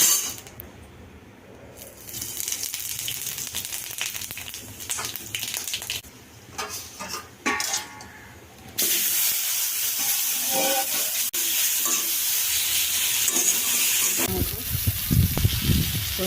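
Dried red chilies, bay leaves and five-spice frying in hot oil for a mango chutney, first as an intermittent hiss and spatter, then a louder, steady sizzle, with a low rumble near the end and occasional voice.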